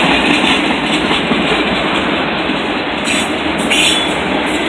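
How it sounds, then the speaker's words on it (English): Tail end of a CSX freight train rolls past a road crossing, a steady, loud clatter of wheels and rail noise filling every moment without pause. "Catch the last part of this train"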